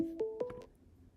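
An incoming test call chimes on a computer during a live call-in show: a brief electronic tone sequence of a few clean beeps stepping in pitch, lasting under a second and fading into quiet room noise.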